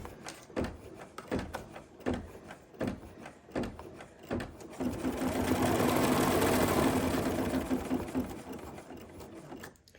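An embroidery machine stitches down a light brown hedgehog snout piece on a Kimberbell mystery quilt block, starting with a series of rapid clacking bursts, then settling into a steady, loud whirring run of needle strokes.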